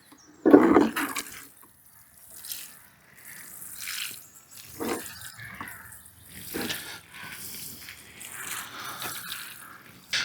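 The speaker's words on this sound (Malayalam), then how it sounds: "എന്തായാലും നമുക്കത് നനച്ചു കൊടുക്കാനായി" Water is poured onto a potted gladiolus, giving intermittent splashing and trickling bursts, close and moderate, with a louder gush at the start and gaps of quiet between pours.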